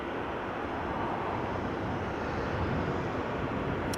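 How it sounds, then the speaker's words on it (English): A KLM Embraer 190 jet at Amsterdam Schiphol Airport, heard as a steady broadband engine roar that stays even and moderately distant throughout, with no talking. "This airplane is KLM flight 1207. We'll be going to Kristiansand, Embraer 190"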